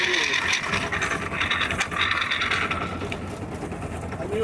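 Broken Eaton RTLO18913A 13-speed truck transmission on a highway, a harsh rattling, ratcheting mechanical grind. It churns continuously with rhythmic clacking over low engine rumble, loud and close.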